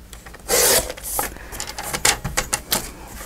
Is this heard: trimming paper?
yes